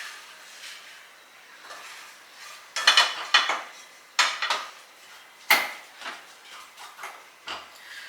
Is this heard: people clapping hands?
no